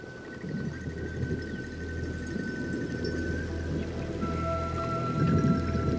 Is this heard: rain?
yes